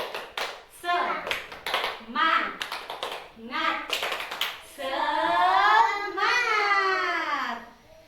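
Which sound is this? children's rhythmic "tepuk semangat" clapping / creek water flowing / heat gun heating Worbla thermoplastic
children's rhythmic "tepuk semangat" clapping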